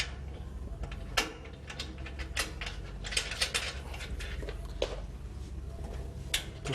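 Wrench tightening the four nuts that bolt an underground gate opener down into its box, giving scattered close metallic ratcheting clicks and small clanks over a low background hum.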